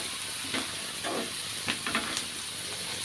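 Sliced onions frying in oil with turmeric and salt, a constant soft hiss of sizzling with a few light stirring scrapes scattered through, near and unaccompanied by voices.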